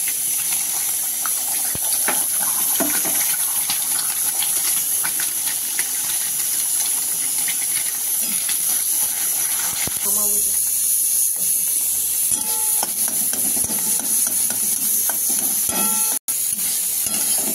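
Eggs frying in oil in a pan for tarka daal, with a steady, loud hiss and sizzle throughout and faint clinks of a utensil near the end.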